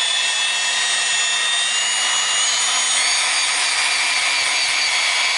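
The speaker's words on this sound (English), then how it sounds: "Valve stem and a drill." A power drill spins a valve stem to rub wheel weight residue off a car wheel in a Honda shop, giving a steady, high, whining grind with a gritty scraping texture that runs continuously and fairly close.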